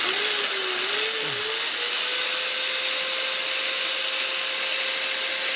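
A power drill spins a DC motor at maximum speed, producing a loud, steady high whine that settles into an even pitch after a brief wavering start, running continuously without talk.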